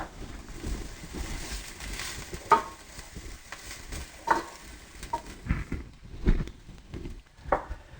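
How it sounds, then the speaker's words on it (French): Garlic and chopped parsley sautéing briefly in a pan for moussaka, a faint, steady sizzle with soft stirring scrapes and occasional light clinks, with no talk over it. "l'ail et le persil que j'ai haché. Je vais faire revenir ça aussi quelques instants"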